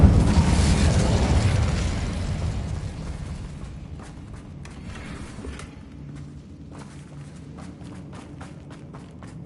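An Incendio fire spell cast in the Hogwarts Legacy video game, a loud fiery burst that roars and slowly fades, followed by scattered footsteps and light clatter.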